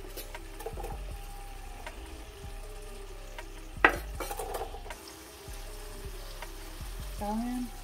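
Onion drops into a hot pan for a spicy shrimp, sausage and veggie pasta, giving a soft, fairly quiet sizzle with scattered clinks of utensils and pan, one sharper knock partway through.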